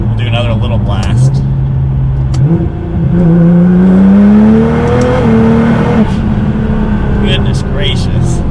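A Nissan GTR with a tuned transmission accelerates hard, its engine note climbing steadily through gears with a brief dip at a shift, loud and close with a whirring drivetrain, and speech is heard over it.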